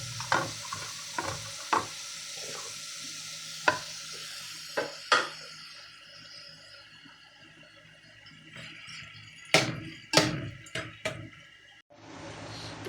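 Onions and chili sautéing together in a pan for beef papaitan, a low sizzle broken by sharp utensil knocks and scrapes, sparse at first, then a busier cluster of clatters near the end.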